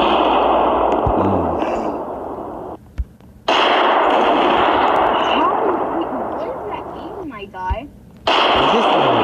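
Video game gunfire bursts in rapid, loud, crackling volleys, broken by brief pauses between bursts, with sharp single reports mixed in.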